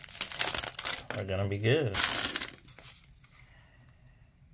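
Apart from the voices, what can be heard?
tearing open a Topps baseball card pack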